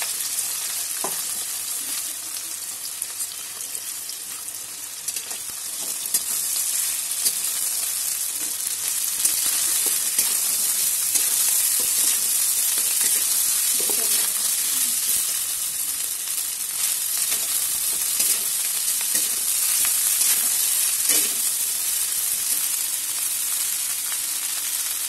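Vegetables stir-frying in a pan for fried rice, a loud continuous sizzle close by with occasional scraping stirs of the spatula throughout, no talking.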